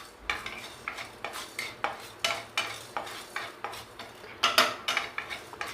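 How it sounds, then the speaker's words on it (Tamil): Salt being dry-roasted in a pan for rasam powder, stirred with a spoon that scrapes and taps the pan in a steady rhythm of close, crisp strokes, with no voices. "உப்பையும் இதில் போட்டு அதில் இருக்க ஈரத்தன்மை போகிற அளவுக்கு கொஞ்சம் லைட்டாக வறுத்து எடுத்தால் போதும்"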